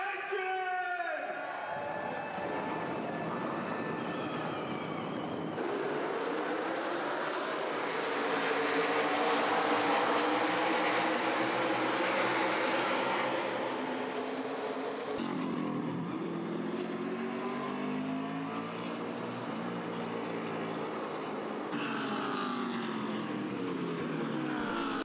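Several race car engines at Indianapolis Motor Speedway fire up and rev hard together, a loud, sustained roar that rises and falls over some twenty-five seconds with no pauses.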